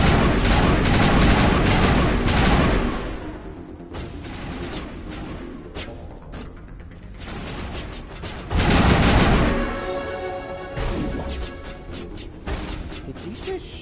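Repeated gunfire bursts and booms from the Mass Effect 1 video game come in loud clusters, some rapid and fusillade-like, under a voice that talks over parts of the action.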